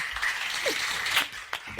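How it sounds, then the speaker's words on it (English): A short clapping sound effect plays with a burst of applause-like claps, moderately loud and steady across the brief moment, no talk over it. "Where's that clap sound? That's what we need right now. The clap sound."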